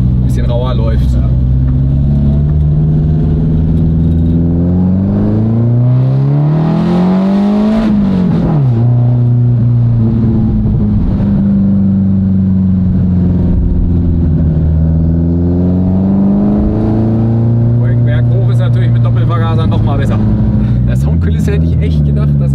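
A classic BMW 02 drives with a loud, rough engine and exhaust drone that rises and falls in pitch through gear changes, while people talk over it throughout.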